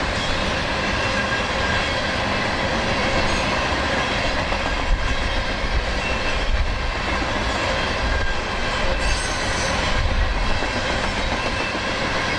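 A heavy CSX freight train rumbles past steadily, its diesel locomotives short on power and struggling uphill, with engine drone and continuous rolling wheel noise, loud and close throughout.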